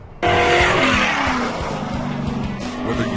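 A racing engine with a Borla exhaust screams at high RPM on a dirt off-road track, a loud sustained howl that bursts in suddenly and holds with shifting pitch and tire noise.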